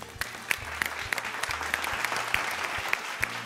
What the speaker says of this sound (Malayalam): ഒരു വലിയ കൈയടി കൊടുക്കാം.